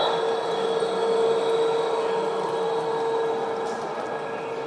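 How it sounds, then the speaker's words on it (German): A 1:32 scale model train, gauge 1, rolls past on a large layout at a model railway meet, giving a steady continuous whirring rumble with a sustained tonal hum, fairly close and unbroken throughout, no voices. "Jetzt sehen wir hier mal kurz einen Zug vorbeikommen"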